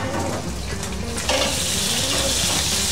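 Fish frying in boiling oil in a covered pan, giving a steady, loud, close crackling sizzle with a brief surge partway through and no talking.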